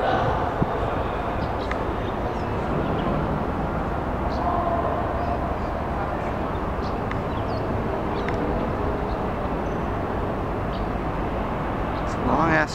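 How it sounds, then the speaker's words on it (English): A VRE commuter train near Washington, D.C. rumbles past at a distance, a continuous heavy roar lasting throughout, with people talking over it. "VRE train going by back there."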